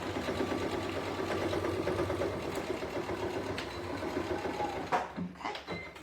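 A sewing machine runs steadily for several seconds, stitching a fabric carry bag with a fast, even mechanical chatter up close, then slows and stops with a few soft handling sounds.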